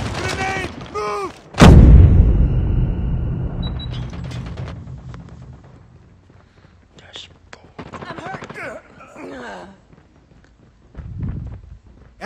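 A grenade detonates in the mobile shooter Call of Duty Mobile as one loud, close boom that rumbles and fades, surrounded by scattered gunfire, clanking mechanisms, and game voice callouts.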